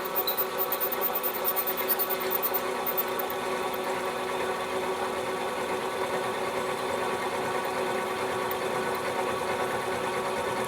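A machine tool cutting metal with a 7/8 inch cutter in a machine shop, giving a steady, even mechanical whirring and rattling drone that holds constant throughout.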